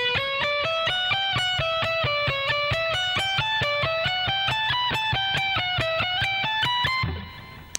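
An electric guitar with distortion plays a slow, even speed-soloing lick of steadily picked single notes stepping up in pitch, ending in a fade with no talking.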